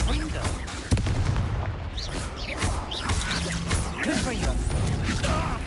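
Fiery spell blasts cast repeatedly in the Hogwarts Legacy wizarding game, dense explosive bursts and crackling impacts layered over ongoing combat noise and music, with a voice speaking in places.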